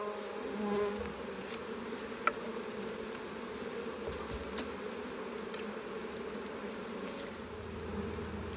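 A steady, dense buzz of many honeybees around an open hive hums continuously close by, a constant swarming drone with no voices.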